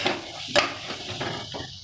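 Stirring of rada rudi (vasedi) greens cooking in oil with ground coriander-cumin, a spoon scraping and clinking against the pan over a soft sizzle, quiet and close.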